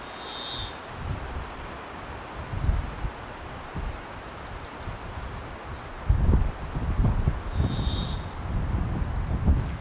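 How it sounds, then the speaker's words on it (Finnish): Wind gusts roar and rumble into the microphone in old-growth forest near Finland's eastern border, rising stronger in the second half, with faint rustling and a couple of distant chirps. "Tuuli puhaltaa aikamoisia puuskia välillä"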